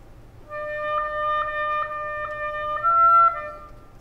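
A wind ensemble plays a slow cantus firmus line at a winter school chamber winds concert, sustained harmonic tones changing pitch every half second or so, moderately loud and alone with no talk over it.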